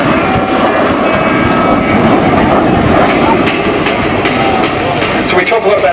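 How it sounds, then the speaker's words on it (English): Canberra bomber jet from 1972 making a pass at the Avalon Airshow, a loud sustained roar with a high whistle as it goes by, while a commentator talks over it. "you hear that whistle as it goes past"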